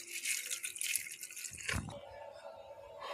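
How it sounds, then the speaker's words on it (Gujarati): Mixed lentils are being washed by hand in water, with splashing and sloshing, then a brief deeper slosh midway followed by quieter trickling, fairly faint and close. "હવે આમાં પાણી નાખીશું અને આ દાળને હવે આપણે આવીથી હાથથી મસળીને 3-4 વાર પાણી ધોઈ દેવાની છે આપણે"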